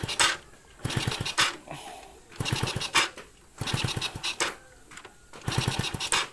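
A Honda Supra Fit motorcycle with a failing ignition coil is kicked or started repeatedly: rhythmic bursts of sputtering engine cranking come in regular pulses, loud and close, each dying away without catching.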